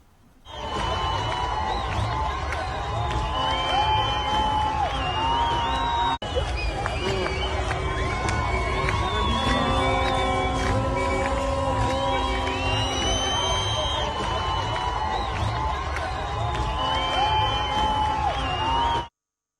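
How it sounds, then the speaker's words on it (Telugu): A street crowd in Tehran celebrates, with a dense, continuous roar of cheering, whooping and shouting voices that holds steady throughout. "టెహ్రాన్ వంటి ప్రధాన నగరాల్లోని అనేక మంది ప్రజలు రోడ్లపైకి వచ్చి సంబరాలు చేసుకుంటున్న వీడియోలు సోషల్ మీడియాలో చక్కర్లు కొడుతున్నాయి"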